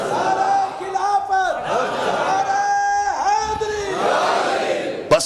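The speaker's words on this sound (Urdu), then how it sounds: "نعرے سب لگوائیں، شروع سے آخر تک سارے نعرے لگوائیں" A crowd at a religious speech gathering chants slogans in unison, loud rising and falling shouted voices in several long waves, close and full.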